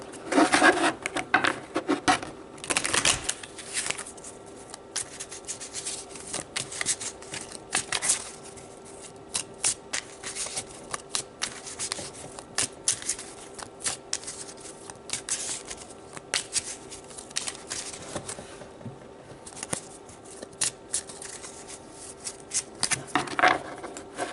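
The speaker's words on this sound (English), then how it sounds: "let's pull some Gypsy cards to get more information about this energy" Gypsy oracle cards being shuffled and handled in repeated dry papery bursts and riffles, close and fairly quiet, with a steady faint hum underneath and no talking.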